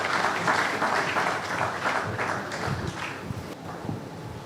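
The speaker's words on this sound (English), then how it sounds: "Keep clapping until he takes his seat." Audience applause at a law week event of a Nigerian bar association branch, sustained dense clapping from a crowd across the whole stretch, with no talk over it.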